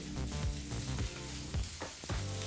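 Capsicum and onion fry in a pan over a medium flame, giving a steady, close sizzle with occasional stirring scrapes and no voices.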